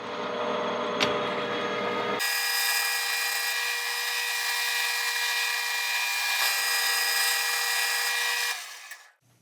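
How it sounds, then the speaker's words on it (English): A metal lathe makes a single-point threading pass at 16 threads per inch, machining scrap into a spring compressor tool: a steady, loud, high-pitched cutting whine lasting several seconds, then a quick stop, with no voices. "I'm a novice at single pointing, so I'm learning as I go here"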